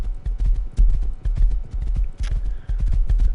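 A horse's hooves clip-clop in a video game, a quick, regular run of close, thudding hoof beats that goes on throughout.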